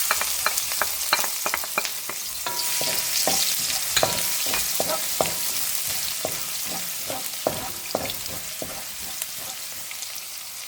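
Garlic sizzles and is stirred in a hot pan as the base for Filipino sweet and sour meatballs (bola-bola), with a steady frying hiss broken by frequent sharp spatula scrapes and clacks, close and fairly loud, no talking.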